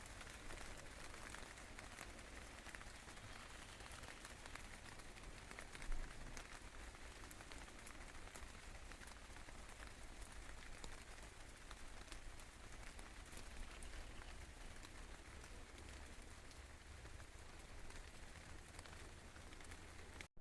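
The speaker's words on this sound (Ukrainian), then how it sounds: "Друзі, ось вам трохи дощу послухати." Steady rain patters softly and evenly on leaves and ground in a forest, a continuous, faint hiss with no voices.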